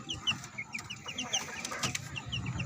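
Pet chickens cluck and chatter before feeding time, giving a brief run of soft, overlapping clucks close by.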